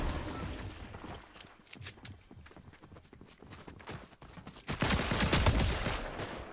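Rapid bursts of video game gunfire crackle in dense volleys, with scattered footstep-like thuds, growing louder and continuous toward the end.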